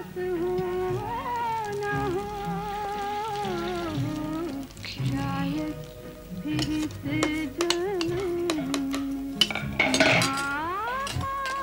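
Dishes and pots clink and clatter as they are handled in a home kitchen. Scattered sharp metallic knocks cluster in the second half over a continuous tonal background.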